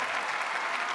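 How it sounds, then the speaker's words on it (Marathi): Audience applause from a studio crowd at a Marathi comedy show, a dense, even wash of clapping throughout. "जोरदार टाळ्या प्रियाताईंसाठी झाल्या पाहिजेत."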